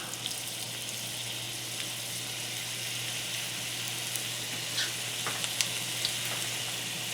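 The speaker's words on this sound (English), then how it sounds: "get them all in the oil" Food fries in hot oil in a home kitchen with a steady, even sizzling hiss and scattered small crackles and pops that stay fairly quiet throughout.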